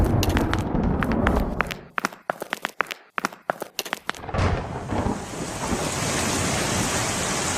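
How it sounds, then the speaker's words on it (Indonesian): Rain with thunder in an overcast storm: sharp crackling thunder strikes come first, then a steady loud hiss of heavy rainfall takes over for the rest. "Nah, hujan."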